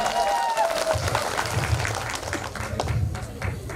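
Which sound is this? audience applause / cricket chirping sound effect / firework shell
audience applause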